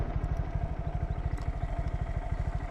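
A 2020 Honda Grom ABS motorcycle engine runs while riding, with a rapid, even low-pitched putter under steady wind noise, close and continuous.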